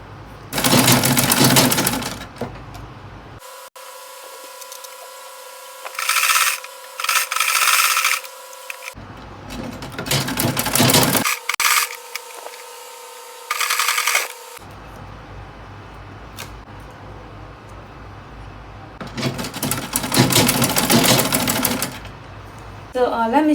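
A sewing machine stitches the bottom edge of an organza gown with a half-inch seam, running in several separate bursts of steady whirring with quiet gaps and handling noise between them.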